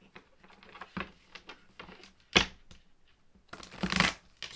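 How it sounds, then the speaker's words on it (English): Tarot cards being shuffled in a quiet room: several soft riffling bursts, with a sharp flutter near the middle and a longer, denser shuffle at the end, separated by light shuffling patter. "I'm going to do 3 more shuffles."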